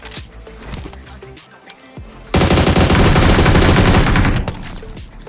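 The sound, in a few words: gunfire in BGMI PUBG Mobile video game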